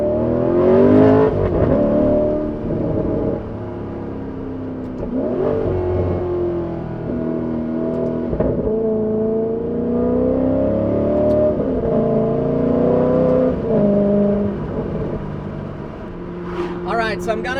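An Alfa Romeo 8C Spider engine revs up and settles in a series of loud, sweeping pulls that rise and fall, close and clear, ending with a sharper burst of revs.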